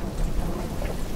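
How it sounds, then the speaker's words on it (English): Cartoon rain pours in a dense, loud hiss with low rumbling thunder underneath, a brief steady stretch of storm noise. "Rain!"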